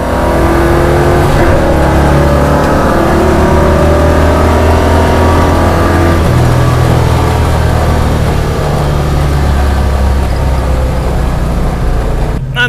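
A 1971 Chevelle SS454 muscle car launches down a quarter-mile drag strip, its big V8 roaring loud and steady, pitch climbing and dropping through gear changes under constant close engine noise.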